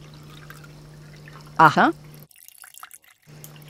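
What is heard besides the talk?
liquid poured into a bottle through a funnel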